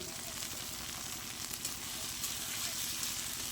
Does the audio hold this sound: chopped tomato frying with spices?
yes